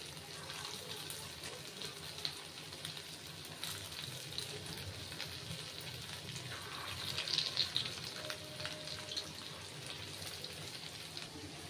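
Potato rolls deep frying in hot oil for a potato breakfast snack, a steady broadband sizzle and bubbling running throughout at moderate level, with a slightly louder burst of crackle midway and no talk over it.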